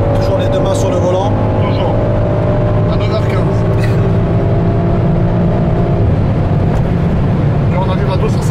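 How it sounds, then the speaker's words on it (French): A new car cruising at about 160 km/h on a highway as the driver eases onto the throttle, with a steady engine drone and road roar filling the cabin and a voice talking intermittently over it. "on est à 160, et on met du gaz tranquille."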